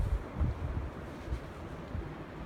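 Gusty high wind outside in cold weather, rumbling in uneven low pulses as it buffets the microphone, close and fairly loud, no one speaking.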